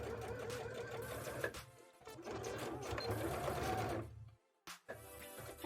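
A domestic sewing machine stitches a rainbow bra in steady rapid bursts, running continuously, stopping briefly, then starting again, loud and close with no talking.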